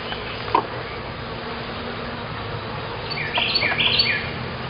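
Honey bees hum inside an opened hive during an inspection, a soft, steady buzzing drone, with a short knock near the start and a few bird chirps toward the end.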